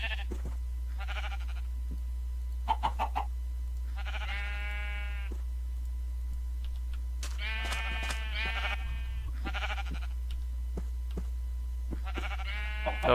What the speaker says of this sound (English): I'm gonna go shear a bunch of these sheep